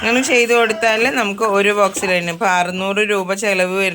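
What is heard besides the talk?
None of the usual background noises is heard.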